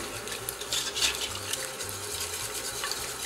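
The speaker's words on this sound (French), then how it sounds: "on va bien remuer, vous voyez que ça prend très vite" Spoon or whisk scraping steadily around a pan of thickening béchamel sauce with milk, made for salmon, spinach and goat cheese lasagne, a continuous close swishing with soft metallic scrapes.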